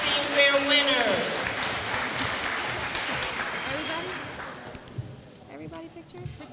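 An audience applauds middle school winners of a 2019 district STEAM fair, a broad, steady clapping that fills the room, with voices talking over the start and the clapping thinning out toward the end.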